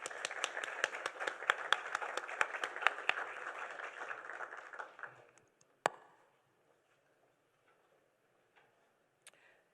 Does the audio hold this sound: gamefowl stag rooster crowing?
no